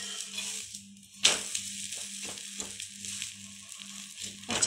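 Moong dal chila frying in a pan, a soft steady sizzle broken by scraping and a clatter as it is flipped, with no talking.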